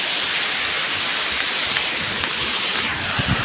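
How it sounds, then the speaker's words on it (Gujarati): Broad, steady roar of rushing floodwater heading toward the Rangola dam after heavy flow swept away a pole, loud and continuous without pause. "પાણી જાય છે એટલું બધું અત્યારે જોઈ લો"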